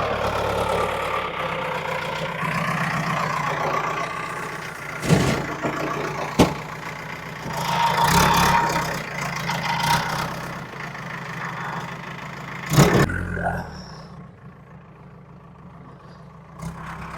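A lorry engine idles steadily in the foreground while a JCB loads it, with a few heavier thumps and clunks of material landing in the bed.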